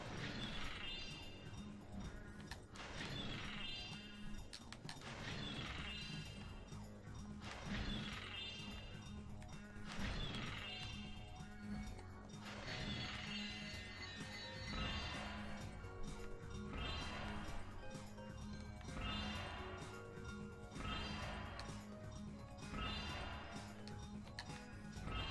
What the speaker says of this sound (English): The sound of the arches breaking is actually pretty satisfying